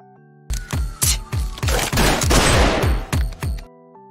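Anime gunfire rings out as a rapid burst of loud, sharp shots, about a dozen close together with one dense stretch of fire in the middle. Soft background music plays before and after.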